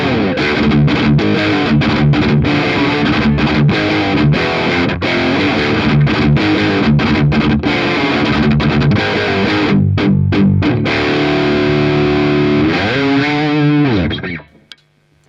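Marshall Valvestate 8100 amp on the boost channel's OD2 setting, playing a loud, dense high-gain metal guitar tone with chugging palm-muted riffs and stabs that ring out and cut off near the end, no talking.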